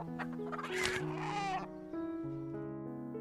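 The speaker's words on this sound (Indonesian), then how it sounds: "Declan juga mematahkan leher seekor ayam yang membuat Anna terkejut." A chicken clucks on a farm garden setting, a short close burst of raspy clucking followed by softer tonal calls, fairly faint and alone without talk.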